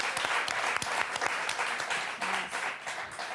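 A studio audience on the French word game show Motus applauds in a loud burst of mixed claps with some sharp individual hits, thinning and fading unevenly partway through.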